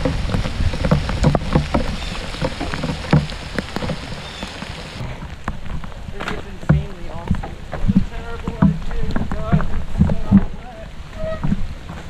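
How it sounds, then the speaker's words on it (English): Rain falls on a wooded mountain bike trail at Hillandale Park, Virginia, during a ride on a 2019 Trek Roscoe 8. It patters steadily under clattering bike and trail noise, and riders talk intermittently nearby. "About to start raining more."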